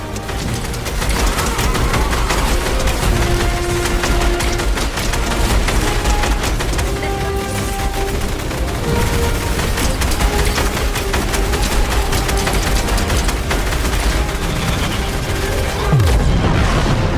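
Loud, continuous gunfire and booming explosions during a video game live event, with dense layered shots, blasts and a steady wash of game music throughout.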